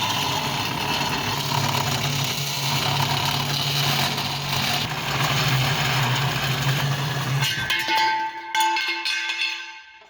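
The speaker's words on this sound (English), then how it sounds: "And now I'm just gonna cut this and let the machine cut it." A machine saw cuts a 2x2 metal piece for an Xterra bumper build, with a steady, loud grinding drone that runs for several seconds before the motor cuts off and spins down, leaving a faint ringing tone.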